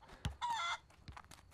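A chicken in the farm video game Barn Finders gives a short squawking cluck, followed by a few quieter clucks, with a low thud just before it and no voices.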